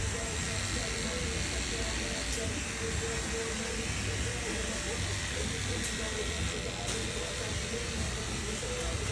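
Electric hair clippers run continuously while cutting hair over a comb during a clipper-over-comb haircut, a close, steady buzzing drone that persists throughout with someone talking over it.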